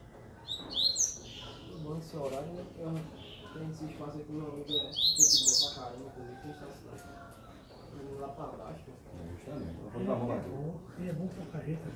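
A coleiro songbird sings in a song contest, with loud, sharp chirping phrases at the start and middle heard over nearly continuous talk and background chatter.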